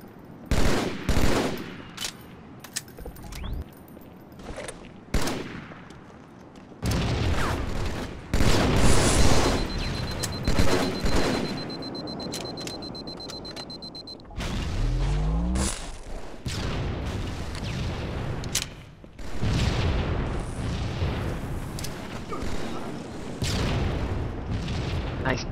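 Rocket launcher fire and explosions in the Halo 2 multiplayer map Beaver Creek, repeated loud booms and bursts of gunfire across a long stretch, with occasional talk.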